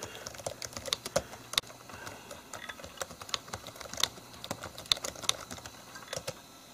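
Keys tapped on an old laptop keyboard at an amateur radio station, a steady run of quick irregular clicks at close range with no voices.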